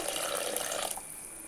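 Tamarind water pouring into fish curry in a steady hissing splash for about a second, then tapering off into a quieter trickle.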